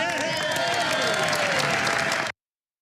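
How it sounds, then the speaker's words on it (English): A crowd applauds at President Obama's signing of the Affordable Care Act, with dense, loud, continuous clapping and some cheering that is cut off abruptly before the end. "The applause was so worthy right there."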